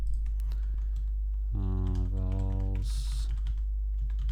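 Computer keyboard keys are tapped softly and steadily while a Python coding problem is worked through; a brief spoken word and a short electronic tone interrupt the light, close clicking.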